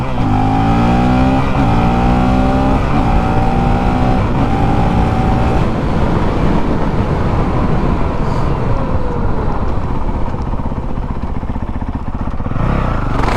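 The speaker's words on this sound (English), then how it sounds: "I literally just seen a cop as I was doing that wheelie." Loud Honda CRF450L supermoto motorcycle (2019) engine revving hard through rising gear pulls while riding a wheelie, then settling into a rough, steady drone; close and continuous with no talk.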